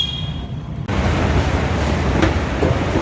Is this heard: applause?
no